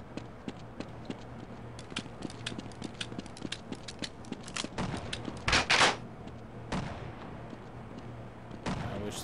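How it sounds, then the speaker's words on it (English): Gunshots from Half-Life ring out as sharp, separate cracks in an irregular series, with one louder, denser burst partway through over a steady low hum. "I gotta give him a double shot right there."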